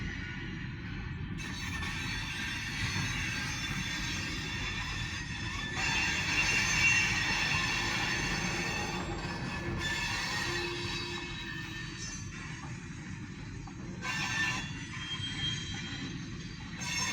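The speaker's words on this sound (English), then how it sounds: "freight train is heading towards East Titusville right now" A one-engine freight train rolls past heading toward East Titusville, Pennsylvania, a steady low rumble of wheels with squeals and screeches rising now and then, loudest around the middle, with no talk.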